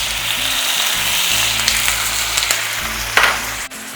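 Food frying in a pan with a little water added, a dense steady sizzle and hiss that flares up briefly near the end.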